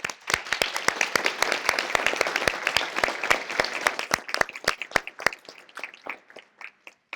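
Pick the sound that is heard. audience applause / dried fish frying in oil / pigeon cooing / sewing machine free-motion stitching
audience applause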